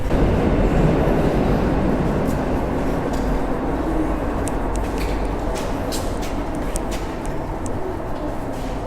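A Koleje Mazowieckie train pulls into the underground Warsaw Śródmieście station with a loud, sustained rolling rumble that stays steady throughout, with faint squeals and clicks over the roar.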